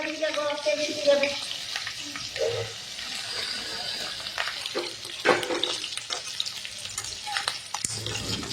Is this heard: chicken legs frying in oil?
yes